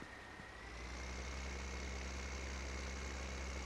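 Tractor engine idling in a farming simulator, a steady low throbbing hum with a faint whine, rising slightly in level after the first second and then holding constant.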